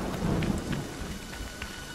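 Heavy rain pours steadily in the Friday the 13th video game, with a low rumble of thunder rolling underneath, loud and close, with no voices.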